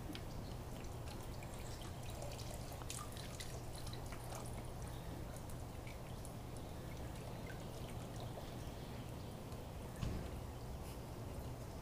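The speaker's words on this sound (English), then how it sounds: "water is going to go pouring out in that direction towards the audience here" Water pours and trickles steadily from cups on a museum exhibit being tested in a fabrication shop, a continuous close splashing stream with scattered drips running unbroken for about twelve seconds.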